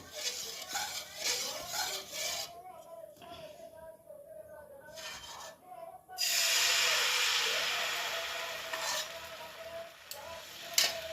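Batter poured onto a pan greased with gawa ghee for nolen gur patisapta, a winter Bengali pitha; a soft sizzle swells into a steady hiss from about six seconds, following quieter stirring and kitchen handling noises.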